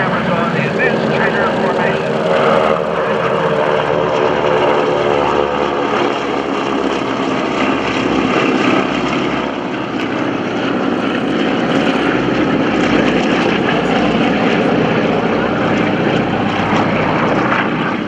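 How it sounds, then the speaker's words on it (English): Formation of four North American T-6 Texan (SNJ/AT-6) propeller trainers passing overhead at a World War II airshow, a loud, sustained radial-engine drone with layered propeller buzz, while an announcer talks throughout. "Here comes the flight of 4 SNJs, AT-6s."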